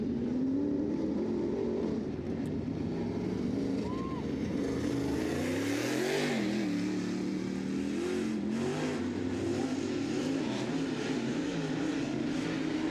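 A late model race car, number 49, accelerates during qualifying at an oval track, its engine note rising and shifting through a throaty drone as it comes up to speed, heard at a moderate distance with some wind and hiss.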